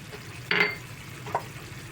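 Chicken curry with tamarind leaves is stirred in a pan as masala powder goes in, giving two brief scraping stirs over a soft, steady sizzle of oil.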